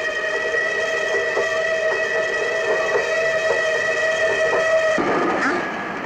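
Train arriving at a railway station, a loud sustained multi-tone horn blaring close by with faint rhythmic wheel clacks beneath, the horn ending abruptly near the close as rumbling continues.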